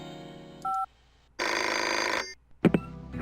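An electronic telephone ringing in the Pajama Sam 2 video game, with a short bell-like ring, a pause and then a longer, louder ring, followed by a brief clunk as the call is picked up.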